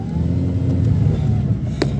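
Car engine idling and pulling away, a steady low rumble with slight revving, heard from inside the vehicle, with a brief sharp click near the end and no speech.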